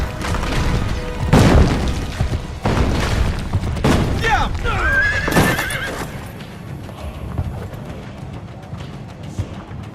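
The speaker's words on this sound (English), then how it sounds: "Faster to travel by horse." Horse in Assassin's Creed: Brotherhood gallops with loud, rhythmic clip-clop hoofbeats and gives a couple of sharp neighs, with heavy thuds and crashes in the busy game mix.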